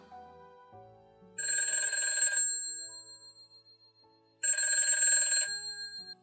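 A telephone rings in a quiet room at night, giving two distinct electronic ring bursts separated by a pause, clear and moderately loud with no one speaking.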